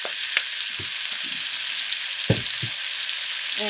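Onions fry in bacon grease in a pan, giving a steady, bright hissing sizzle up close with a few scattered knocks and scrapes from stirring.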